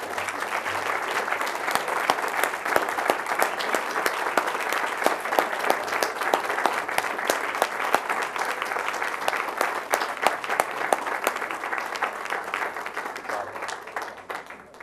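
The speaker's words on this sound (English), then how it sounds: "I think it's a well-deserved another round of applause for being named this." A roomful of people at a school board trustees meeting breaks into steady, dense applause that carries on evenly for about fifteen seconds, then starts to thin near the end.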